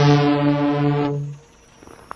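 Diesel locomotive 7101 sounding a single long, loud, steady horn blast that cuts off sharply, leaving faint background rumble.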